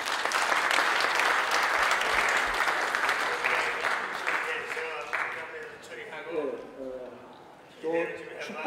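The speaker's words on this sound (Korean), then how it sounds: "큰 박수로 환영해 주시기 바랍니다." Audience applause welcoming a speaker at a church seminar, loud sustained clapping from a large crowd that tapers after about five seconds, with a voice starting to talk over the last scattered claps.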